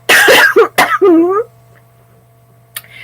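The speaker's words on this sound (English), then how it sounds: "I've got a cough right now, excuse me." Several loud, harsh coughs burst out close up in quick succession, followed by a throat-clearing rasp, then near silence with a faint low hum.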